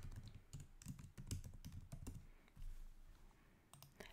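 Rapid computer keyboard typing, a steady run of close, crisp keystrokes with uneven rhythm and brief pauses, heard alone in a quiet room while text is entered for an Illustrator stencil design.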